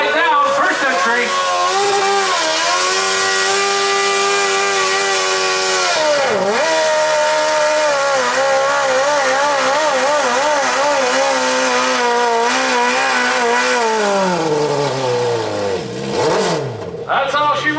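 A modified 1200 lb lawn tractor in a pull run, engine roaring loud and close the whole way, pitch surging and dipping under load before dropping off at the end.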